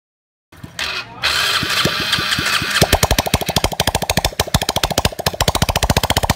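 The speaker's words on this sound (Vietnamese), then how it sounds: "Chỉ cần nổ máy nhẹ cái thôi bơm nhớt chạy lên rồi" A Honda Wave S110 motorbike engine, freshly reassembled, is cranked over with a few sputtering turns, then catches and settles into a fast, regular idling putter, loud and close.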